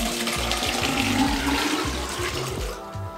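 Steady water pours into a Geyser Systems portable off-grid hot shower tank, a continuous splashing gush that fills the whole clip and drops off sharply near the end.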